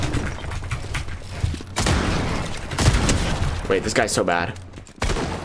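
Shotgun blasts in a Fortnite solo match, several loud booming shots amid other gunfire and rapid game sounds, with a player talking over the action.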